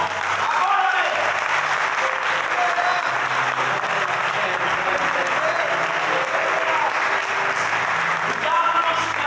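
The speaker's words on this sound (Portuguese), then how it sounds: "Dá um aplauso a Ele a honra" Congregation applauding during a church service, steady loud clapping from many people with a voice and faint musical tones running underneath throughout.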